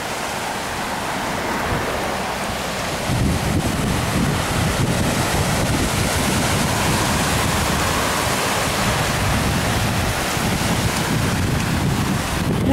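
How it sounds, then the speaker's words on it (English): Ocean waves at a beach in York, Maine, roar continuously under strong wind buffeting the microphone, a loud broadband wash that grows heavier after a few seconds, with no voices. "I guess the ocean is kind of fierce here."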